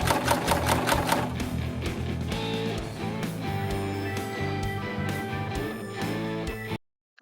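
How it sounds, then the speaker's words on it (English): A sewing machine stitches the side seam of a homemade bike jersey in quick, rattling bursts that run almost nonstop and close up, then stop abruptly near the end. "And now I'm doing the underarm seam,"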